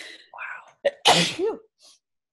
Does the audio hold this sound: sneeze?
yes